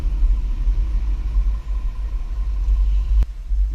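A 2023 Mazda CX-5 carrying a Swagman XTC2 tilt bike rack weaves through a test course slalom, giving a steady low road rumble and engine drone from inside the vehicle with a brief click near the end.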